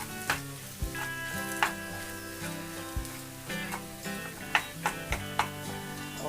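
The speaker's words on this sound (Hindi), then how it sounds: "इसको हम 4 से 5 मिनट अच्छे से भून लेंगे" A gram flour batter mixture fries in a pan with a continuous close sizzle, broken by regular knocks and clicks of a spoon stirring it.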